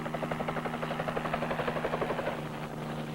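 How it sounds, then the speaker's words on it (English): A Marine helicopter flies over rough terrain while paying out wire, its rotor chopping in a steady, rapid beat with a droning engine hum, close and loud throughout. "Then the helicopter heads for the other end of the line"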